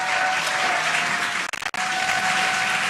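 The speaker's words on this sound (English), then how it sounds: "You can hear the crowd." Crowd applauding and cheering continuously during a Dragon capsule splashdown broadcast, steady and fairly loud, with a brief dip near the middle.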